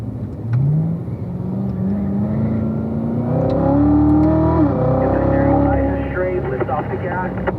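A race car on a track with an engine note that drops as it brakes, then sweeps and rises steadily through a right-hand turn, loud and close, with a voice talking over it.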